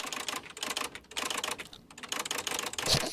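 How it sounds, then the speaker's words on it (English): An old manual typewriter clatters with rapid, dense keystrokes in an uneven rhythm, heard close and fairly quiet, with short pauses between bursts and no talking. "That's some old ass typewriter, bro."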